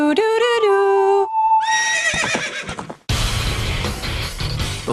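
A horse from Legend of Zelda: Ocarina of Time gives a loud, tonal whinny, followed by game music tones and then a burst of noisy clatter to the end.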